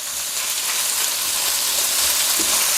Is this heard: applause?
no